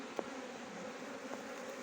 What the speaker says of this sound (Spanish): Miren acá toda la cantidad de abejas reinas que hay acá abajo.